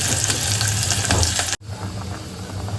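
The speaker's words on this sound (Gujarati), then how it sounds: "સરસ મજાની દાળ ઉકળી રહી છે" Dal boils in a pot with a steady bubbling, sizzling hiss that cuts out briefly, then resumes somewhat quieter, close and with no talk.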